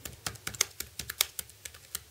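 Someone types a message on a computer keyboard, with quick, irregular key clicks close by and fairly quiet, and no talk.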